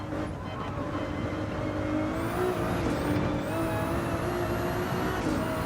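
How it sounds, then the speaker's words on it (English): A steady car engine in the racing video game Gran Turismo 7 drones with rising and falling tonal whine, like a race car revving between gears, continuous and fairly even. "this car sounds nothing like this"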